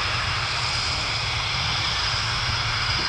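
Military jet engine throttling up at Volkel air base during a NATO Tiger Meet spotters day, a steady loud broadband roar heard outdoors and unbroken throughout.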